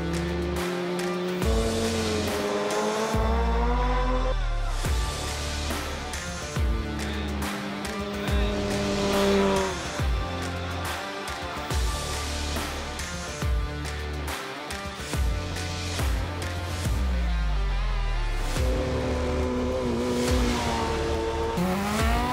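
A BMW M 1000 R motorcycle engine on a road test, revving hard through repeated climbs in pitch with quick gear-shift dips, loud and close throughout.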